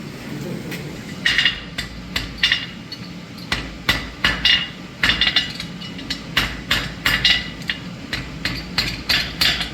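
Blacksmith hammering a chain link during forge welding, sharp ringing metal strikes repeating in quick irregular bursts, loud and close with no talk.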